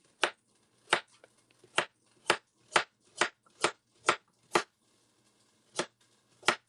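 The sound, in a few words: chopping carrots with a knife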